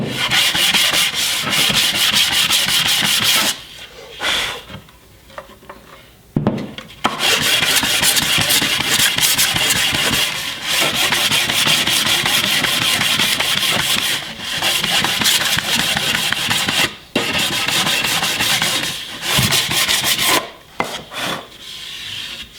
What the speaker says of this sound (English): so I'll go ahead and sand these